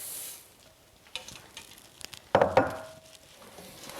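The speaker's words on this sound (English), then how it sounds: "And stir that all together." A spoon stirs Rice Krispies cereal into a sticky treat mixture in a pot, giving soft scraping and crackling textures with a few light clinks, fairly quiet and close, with a brief louder scrape partway through.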